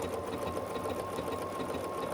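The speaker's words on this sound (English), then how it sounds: "I'm just going to start sewing" Sewing machine stitching a whole-cloth baby quilt, a steady fast needle rattle and motor hum running evenly and close with no talking.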